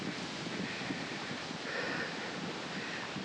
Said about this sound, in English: It's really windy back here.